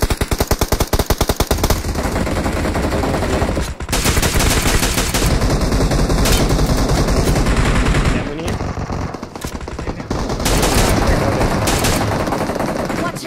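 Loud automatic gunfire from the battle-royale game BGMI: rapid bursts and sustained volleys of shots fill the whole stretch, with brief gaps between strings of fire and excited talk underneath.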